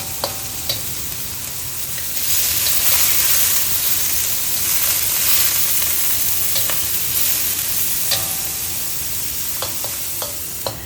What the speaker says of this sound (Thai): คุณต่อจะเอาตับมาผัดก่อนที่จะใส่กระเทียมลงไป